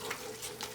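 A roux and tomato mixture is stirred into reduced wine in a pot, giving a close, steady scraping and bubbling sizzle with soft swirling pulses of the spoon. No one speaks.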